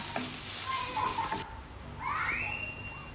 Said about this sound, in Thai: ผัดจนหัวหอมเขาสุกนะคะ